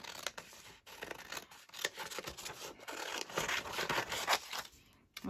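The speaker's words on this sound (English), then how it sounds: "I'm going to cut around it" Scissors snipping around paper cut out for a trifold journal insert, a steady run of close, crisp cuts with paper rustling, pausing briefly twice.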